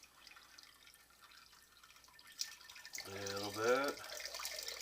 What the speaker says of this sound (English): Let that drain out.